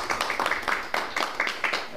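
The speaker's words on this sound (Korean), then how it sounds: "다시 한번 박수" An audience at a Busan general assembly and policy debate claps in a steady, rhythmic beat of about four claps per second. The claps sound moderately close and not very loud.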